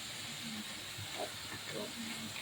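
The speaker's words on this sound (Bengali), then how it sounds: "এবারে একটুখানি আমরা সয়া সস দিয়ে নেবো।" Soy sauce hitting a hot pan of cooking momos, a steady steamy hiss and sizzle heard close up, with faint kitchen clatter underneath.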